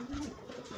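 Pigeons in an aviary give a brief low coo, faint and close, with soft rustling behind it.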